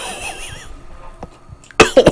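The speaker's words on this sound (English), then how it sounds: "Don't cough, you dumbass! This is not the time!" Player character in the horror video game Maid of Sker coughs in a short loud burst of two or three harsh coughs near the end, after quiet ambient game sound.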